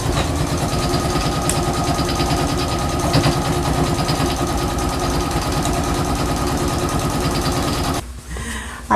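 A sewing machine stitching a seam on a journal cover, a fast steady mechanical whirr with rapid needle rhythm running continuously up close for about eight seconds before stopping abruptly.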